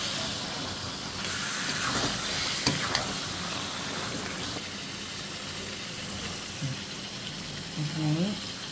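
Chicken pieces hit spiced oil in a pan and sizzle with a steady broad hiss, with a few clinks and scrapes near the end.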